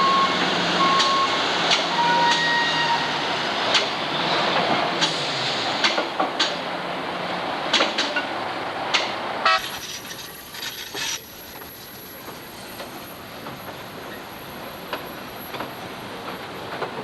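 Simpson Timber's log train begins its return trip hauling 47 loaded log cars over a steel bridge, with a continuous heavy rolling rumble, metallic clanks and high wheel squeals, slightly quieter in the second half.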